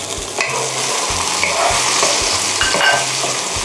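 Three-flavour meatballs stir-fried in a sticky sauce with a splash of fish sauce, a loud steady sizzle under repeated rhythmic scraping of a spatula against the pan.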